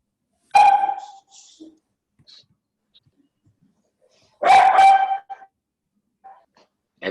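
A pet dog barks in two separate loud bursts a few seconds apart, heard nearby in a quiet room during an online call, with faint short sounds in between.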